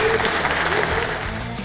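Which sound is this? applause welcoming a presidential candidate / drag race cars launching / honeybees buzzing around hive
applause welcoming a presidential candidate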